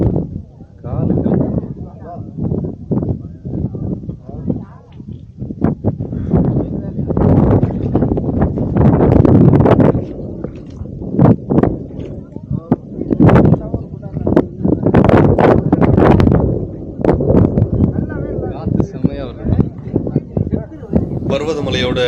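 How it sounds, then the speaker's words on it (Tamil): Strong wind at the summit of Parvathamalai hill, a Tamil Nadu mountain, batters the microphone in loud, irregular roaring gusts that rise and fall throughout, with brief lulls between blasts. "காற்று செம்மையாக அடிக்குதுங்க"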